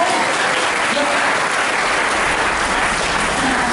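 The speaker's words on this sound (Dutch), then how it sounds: "Mag ik nog even applaus op die dag?" Loud, dense applause from a large theatre audience at a 40th-anniversary show for comedian Tineke Schouten, continuous clapping filling the whole stretch without letup.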